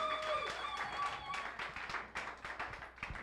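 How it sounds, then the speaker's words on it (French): A church congregation clapping for Jesus: steady, fairly quick rhythmic claps from many hands, heard under a lingering sustained musical tone early on, at moderate distance. "Clap for Jesus."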